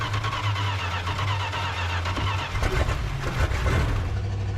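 Dodge van chassis engine running steadily with a low, rumbling drone, loud and close, turning rougher and more uneven toward the end as the revs shift.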